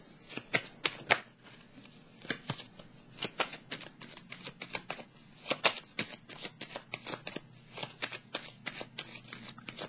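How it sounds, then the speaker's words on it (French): Oracle cards are shuffled and drawn by hand in close, crisp bursts of riffling and snapping card noise that repeat irregularly, with quiet gaps between them and no speech. "Je vais piger une autre carte ici"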